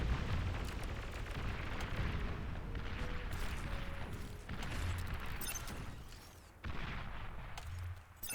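Bombs dropped by a bombing run in the strategy game Beyond All Reason on the Devil's Postpiles map set off a dense, rumbling series of explosions. The booms roll and overlap for several seconds and sound fairly distant and muffled.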